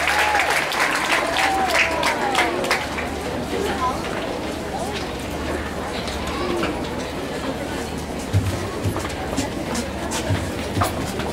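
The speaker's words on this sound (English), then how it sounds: "Let's give one more round of applause to the award winners from Salem." Applause rises from the audience for award winners at a sixth-grade graduation, a dense clapping crowd that starts strong and slowly thins, with chatter underneath.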